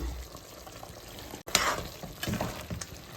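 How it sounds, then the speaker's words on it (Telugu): Onion pieces drop into hot oil for a mutton curry, a low sizzle that jumps into a louder, crackling fry after a brief gap, with stirring scrapes close by. "ఇప్పుడైతే ఉల్లిపాయ ముక్కలు వేస్తున్నాను."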